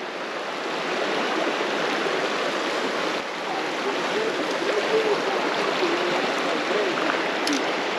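Swift water rushing steadily along a creek, the West Fork of Horsehead Creek, a continuous broadband wash with no breaks, moderately loud and close.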